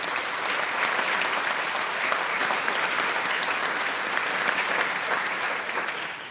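Sustained, dense applause from an audience at a school concert band program, steady and full for several seconds before starting to fade.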